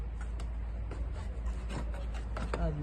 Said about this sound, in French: du coup on gratte les tondeuses